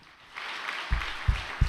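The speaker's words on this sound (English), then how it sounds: "Let us offer him another big round of applause." An audience breaks into applause that swells after a quiet start, steady clapping with a few heavier thumps, at a gathering at Cheonshim Won.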